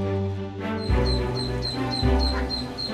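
Small ducklings quacking near and in quick succession, several peeping calls overlapping over a low background rumble.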